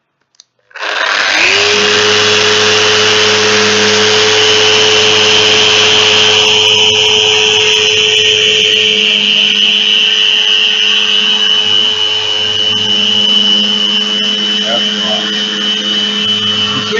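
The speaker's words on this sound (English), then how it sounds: "I'm going to switch it to ordinary random orbital sanding" A Festool Rotex random orbital sander in random orbit mode starts up and runs steadily and loudly with a constant motor whine and buzzing hum, close by, with no pauses.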